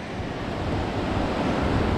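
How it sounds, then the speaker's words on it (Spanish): A dark, swollen river, the Baché, rushes steadily in the countryside of Santa María, Huila, giving a dense, continuous roar of water that stays loud and even throughout with no voices. "vamos a cruzar un río que está crecido"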